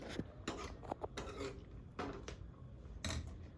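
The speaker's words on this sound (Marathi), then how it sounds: "पाणी टाकलेलं आहे त्यामध्ये थोडं आपण नॉर्मल हलवून घेऊया." Eggs and water stirred in a bowl: several quick scraping clatters of a utensil against the dish in short bursts, close and moderately loud.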